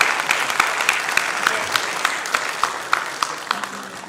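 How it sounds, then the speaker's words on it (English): Applause for panelists at a postgraduate research conference, a modest audience clapping with distinct individual claps standing out, steady and tapering slightly toward the end. "A round of applause for our panelists."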